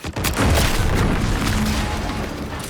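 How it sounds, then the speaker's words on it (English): An explosion in The Outer Worlds 2 hits with a sudden deep boom, then a dense rumbling roar that holds steady and slowly fades. "An explosion?"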